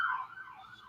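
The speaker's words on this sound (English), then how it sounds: "we have an ambulance just roll on by" An ambulance siren passes outside a talk studio, a faint wavering wail that fades as it goes by, with no talk over it.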